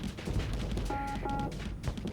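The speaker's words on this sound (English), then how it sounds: "Those ion cannons are nasty." Ion cannons fire in rapid, overlapping bursts during a space battle in the game Starsector, a fairly quiet crackling barrage with a brief tonal whine partway through and no voices.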